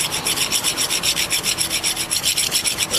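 Edges of a Chrysler 331 semi-hemi timing cover are filed clean by hand, a close, steady rasping in quick, even back-and-forth strokes, about a dozen per second, with no talk.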